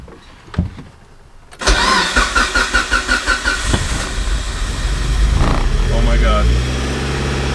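A Mitsubishi Lancer Evolution VIII MR with a freshly swapped engine cranks and fires into a loud, steady idle, a quick burst of starter pulses settling into a continuous rumble close by, with people talking and exclaiming over it.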